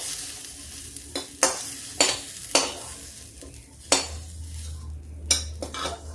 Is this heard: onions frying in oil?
yes